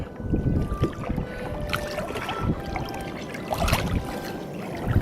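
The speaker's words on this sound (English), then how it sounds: "I'm just going to walk and pull my kayak along here." Splashing, trickling water and irregular thumps as a kayak is dragged along through shallow water at Rarotonga in the Cook Islands, steady and close with no speech.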